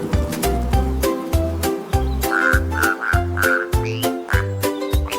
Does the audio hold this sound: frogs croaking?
yes